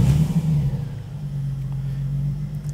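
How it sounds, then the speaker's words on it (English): A car engine with an AFR tune fires up on first startup and settles into a steady idle near 1000 RPM, a loud initial surge easing into a constant low drone. "straight away the engine fires up, and I'm using a small amount of throttle to maintain 1000 RPM idle"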